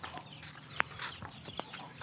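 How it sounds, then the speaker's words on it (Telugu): A native country hen with her chicks gives a couple of short, faint clucks over a quiet outdoor background. "ఇంకో కోడి చూడండి"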